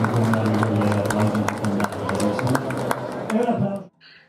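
Audience applause at an outdoor jazz concert in Piazza della Vittoria, Lodi: dense, sustained clapping from a large crowd over low music and murmur, cutting off abruptly near the end.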